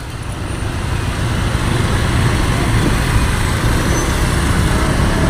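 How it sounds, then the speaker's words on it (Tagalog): A stalled traffic jam on a road in Pardo makes a dense, steady rumble of idling car, truck and bus engines nearby, continuous with no distinct passing vehicles. "Grabe ka traffic din na pita guys. Di mo iro gumusakyanan. No movement."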